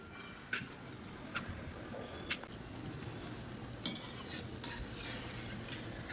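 A batch of thick mathiya, a crispy Gujarati snack, fries in hot oil with a steady soft sizzle, broken by a few sharp clinks of a utensil against the pan.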